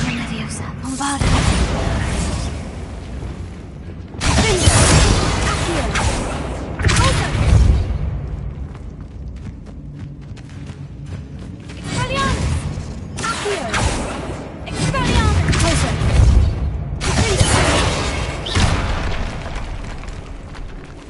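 Repeated explosive Bombarda spell blasts in the Hogwarts Legacy video game, loud booming bursts recurring every few seconds with crackling debris between them, mixed with game music and occasional voice lines.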